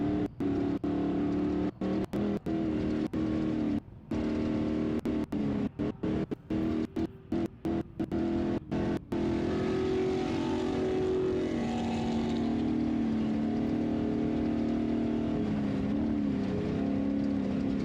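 Ultra4 off-road race truck engines roar and rev in the distance at a desert race in Laughlin, several vehicles passing with rising and falling motor drone, punctuated by brief gaps early on.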